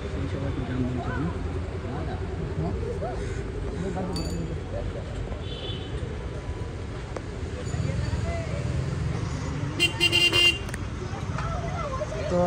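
A city traffic jam rumbles along with occasional car horn toots, including a burst of honking near the end, while someone talks over the street noise and crowd murmur.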